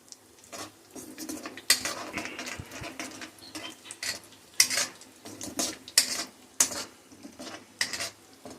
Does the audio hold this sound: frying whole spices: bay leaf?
yes